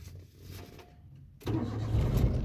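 A CNG-converted car engine is cranked with the starter and catches, building from a low churning hum into a louder, steady running rumble partway through. It is fairly faint, with no speech.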